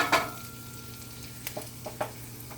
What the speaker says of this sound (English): we have the garlic getting brown